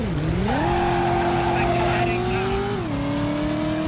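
Car tires squeal in the Driver video game, a steady skidding screech over a revving engine whose pitch climbs and then drops, loud and continuous, with game music or talk faintly underneath.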